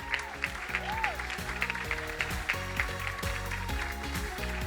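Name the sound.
audience applause for pitching teams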